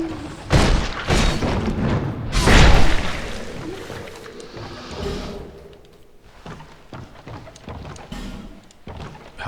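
In Dark Souls 2 Scholar Edition, an enemy's leaping attack lands with a heavy booming thud, loudest near the middle, surrounded by clattering impacts and scraping combat noise, close and without speech.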